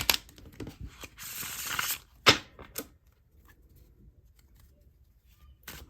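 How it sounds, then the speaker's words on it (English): Prototype oracle card deck being shuffled by hand, with bursts of crisp riffling and papery flutter in the first three seconds, then near silence with small faint card taps. "so let me show y'all how these shuffle"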